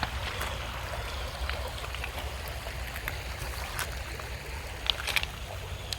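Water in a creek flows over rocks as a soft, steady rushing murmur with faint splashy trickles, quiet and continuous.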